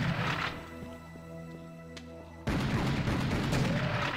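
Gunfire in the Serious Sam co-op video game, a dense loud barrage of shots that cuts in abruptly after a quieter stretch of droning game sound.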